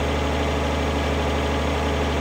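Tractor engine idling in the farming video game Farming Simulator 2013, a steady droning rumble that holds constant throughout with no talk over it.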